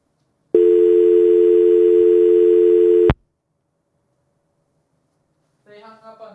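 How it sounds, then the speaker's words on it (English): A phone sounding for an incoming call gives one loud, sustained electronic tone lasting a few seconds and then stops abruptly. After a silence, a voice starts talking. "I'm getting another phone call"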